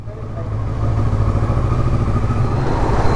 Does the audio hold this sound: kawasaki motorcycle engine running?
yes